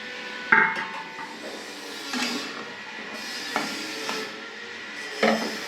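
Potatoes and pointed gourd going into a frying pan, a few distinct thuds and clatters spaced a second or two apart over a low background hiss.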